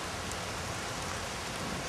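Steady rain falls outdoors, a dense, continuous hiss of drops with no break or other sound.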